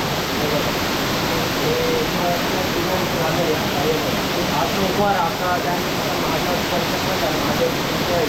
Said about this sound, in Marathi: गाईच्या मुखातून ना शिवलिंगावर पाणी पडतं